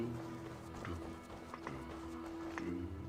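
Horse hooves clip-clop in a steady rhythm across the Viking Age setting of the video game Assassin's Creed Discovery Tour, moderately near over a constant tonal game hum.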